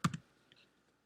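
Two quick close clicks on a computer keyboard or mouse while naming a new folder, followed by a faint softer tap, with quiet in between.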